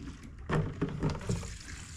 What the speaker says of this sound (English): Let's pour some fuel in it